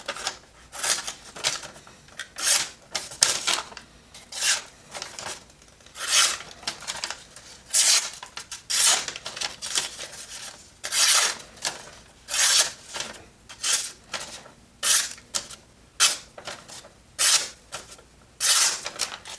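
A Benchmade Full Immunity pocket knife slices through paper in a steady series of short, raspy cutting strokes, each a bright scratchy burst with brief pauses between, close and fairly loud with no talking.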